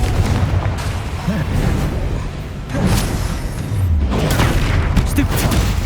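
The Confringo fire spell goes off in the video game Hogwarts Legacy with several deep booms and bursts. The blasts fall in clusters over a continuous rumbling game background, and no one speaks.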